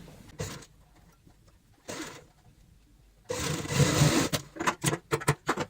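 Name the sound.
sewing machine stitching fabric strips for a purse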